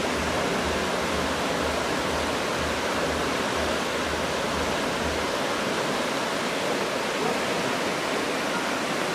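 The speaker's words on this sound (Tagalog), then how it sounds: "Ang sarap pakinggan ng ano, yung sound ng tubig, yung agos niya." Broad, steady rush of a large river's current flowing continuously, dense and close with no letup, a low rumble briefly pulsing underneath early on.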